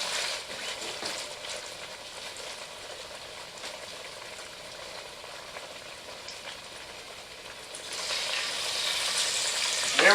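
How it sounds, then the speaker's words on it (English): Bacon frying in a pan gives a continuous hissing sizzle, close and fairly loud, swelling louder toward the end as more strips hit the hot fat. "There we go, got the sizzle going."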